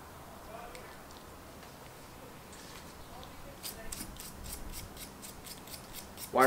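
A wire brush scrubs a beaver skull in a run of about ten quick, rhythmic rasping strokes, close and fairly quiet, after a stretch of low background noise.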